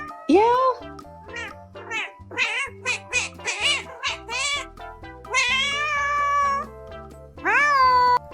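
A stray cat meows repeatedly at close range, a run of loud, drawn-out, rising and falling calls in quick succession, with a person's voice mixed in among them.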